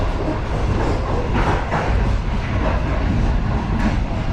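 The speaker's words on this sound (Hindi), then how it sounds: "ट्रेन हमारी रावलपिंडी पहुँचने वाली है थोड़ी देर में।" Passenger train running steadily, heard from inside a new Chinese-built coach in Pakistan, with a continuous loud rumble and faint rail clatter throughout, no talking.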